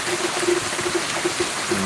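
A burst of heavy rain in Ragay, Camarines Sur, Philippines, hisses steadily, close and fairly loud, with a faint repeating tone running underneath.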